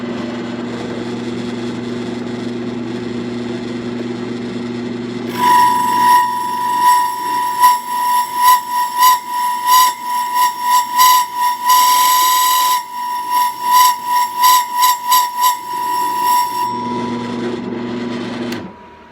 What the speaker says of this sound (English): I've got my depth stop set at about a 1/2 inch, so it drills just a little ways down before it stops